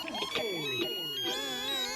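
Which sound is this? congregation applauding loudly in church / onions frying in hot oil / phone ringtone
phone ringtone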